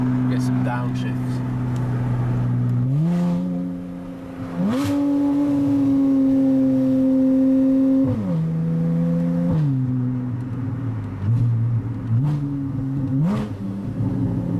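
A Porsche 981 Boxster S with an Armytrix Valvetronic exhaust revs hard and loud, the engine tone climbing, holding, then stepping down through several downshifts, with crackles in between and a voice talking over it.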